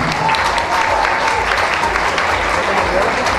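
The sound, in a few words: applause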